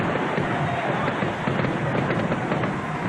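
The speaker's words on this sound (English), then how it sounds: "Fireworks show still going on." Dense, continuous crackling and booming of fireworks at a 1990 NFL game between the San Francisco 49ers and L.A. Rams, a steady rumbling barrage of bursts heard from a distance with stadium crowd noise mixed in.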